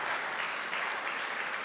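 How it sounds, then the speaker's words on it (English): An audience claps in appreciation at a lecture hall talk, dense even applause close by that holds steady for under two seconds. "I think this requires appreciation by clapping hands."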